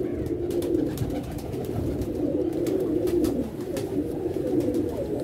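Pigeons coo in repeated soft, rolling calls from close by, a steady layered murmur with a few clicks and rustles and no talk.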